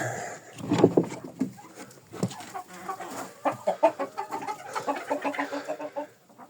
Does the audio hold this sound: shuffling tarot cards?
no